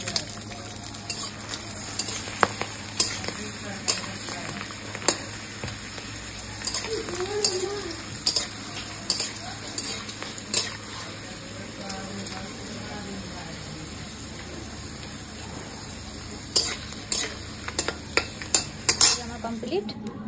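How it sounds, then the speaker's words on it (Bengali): Papads frying in hot oil, a steady soft sizzle close by, broken by sharp clacks and scrapes of a utensil against the pan, with no talking. "তাহলে এবার পাঁপড়গুলো ভেজে নিই"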